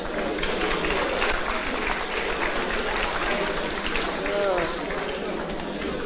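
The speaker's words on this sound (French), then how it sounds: "on l'applaudit s'il vous plaît" Steady, dense applause from a graduation ceremony audience at the IUT du Mans fills the hall for about six seconds, even in level with no pauses, with a few voices faintly mixed in.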